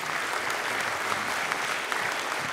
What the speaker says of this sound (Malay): Saya rasa penonton kena bagi tepukan gemuruh ya